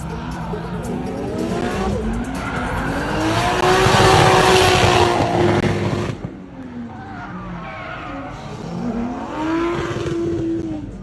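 A drift car slides with loud tire squeal at a team drifting competition, its engine roaring and pitching up and down through two long, close skids.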